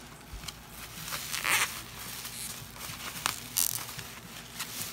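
Packaging of a Coldplay The Singles 1999-2006 collector's box set being opened by hand, with soft crinkling, rustling and a few brief tearing or zip-like bursts, close and fairly quiet, no talking.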